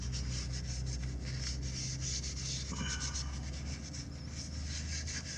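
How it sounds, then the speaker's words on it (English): A cloth rubs and wipes steadily across the body of a Victory Empulse TT electric motorcycle during an oil change, making a continuous close scuffing sound that carries on without pause. "So I'm just going to wipe this down, clean it up a little bit."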